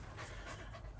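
Chewy the dog pants steadily and close by, a continuous rapid breathy rhythm with no voices, set inside or beside a 1951 Willys Overland pickup truck.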